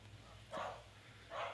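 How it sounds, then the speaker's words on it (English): Dogs bark twice, fairly faint and somewhat distant, two short separated yelps over a low background hum. "we're being interrupted by dogs"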